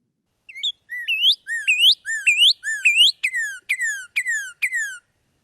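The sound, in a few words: northern cardinal song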